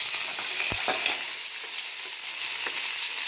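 Mustard seeds, urad dal and curry leaves frying in hot oil in a pan, giving a steady close crackling sizzle with a brief sharp pop near the start and a few scattered spits.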